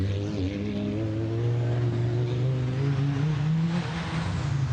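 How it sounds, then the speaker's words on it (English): Auxiliary cooling fans on rally cars whir steadily at the Goodwood Festival of Speed forest rally stage, a continuous mechanical drone with low engine hum running beneath it. "I can hear the auxiliary cooling fans working overtime"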